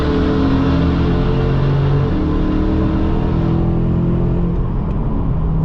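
A 2023 Dodge Challenger T/A on street tires launching down a drag strip, a loud sustained engine roar that holds steady then slowly fades as the car pulls away, with no talking.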